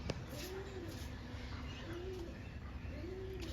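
Pigeons cooing at a loft, a soft repeated coo recurring about three times at a steady pace over a low ambient hum, moderately close.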